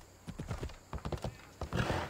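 A horse's hooves clip-clop in quick, even steps in Assassin's Creed Odyssey, heard close and clear, with a brief snort or whinny near the end.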